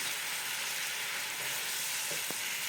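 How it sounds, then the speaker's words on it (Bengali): Paneer cubes frying in a pan of gravy, a steady loud sizzle with a couple of faint clinks near the end, no voices. "এখন পনিরটা দিয়ে দিচ্ছি"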